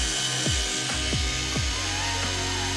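Three T15 bolts on a visor being removed with a driver, a series of four or five short whirring bursts that drop in pitch at steady intervals over a constant background hum.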